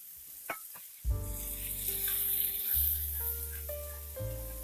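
Apples caramelizing with onion in a frying pan sizzle steadily and loudly up close, with a few stirring scrapes and knocks near the start. Soft background music plays throughout.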